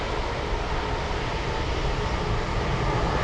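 An airliner in special anniversary livery departs Anchorage airport in gusty wind, its jet engines giving a steady, loud, broadband roar that holds constant without pauses.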